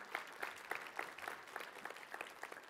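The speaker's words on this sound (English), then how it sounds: "We can cheer for her." A church congregation at a Sunday service claps for the pastor's wife, a fairly soft, busy patter of many hands that holds steady for a few seconds.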